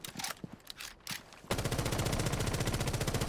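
Ash's rifle in Rainbow Six Siege: a few scattered single shots and clicks, then a sustained rapid automatic burst with an even, fast rhythm, loud and close.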